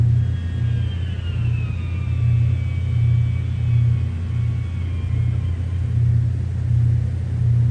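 Twin propeller engines of a Piper Seminole in X-Plane 12 climb after takeoff, a steady deep droning rumble with a slow pulsing beat and a faint high whine above, loud and continuous without talk.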